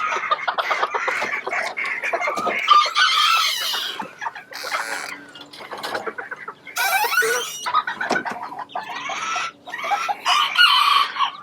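Bantam chickens cluck steadily in a close, busy chorus, with overlapping calls and a rooster's crow rising among them.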